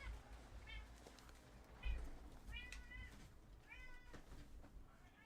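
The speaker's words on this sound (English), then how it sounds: "My cat was yelling at me." A hungry house cat meows repeatedly indoors, several drawn-out yowls spaced through the moment, moderately near over a low background hum.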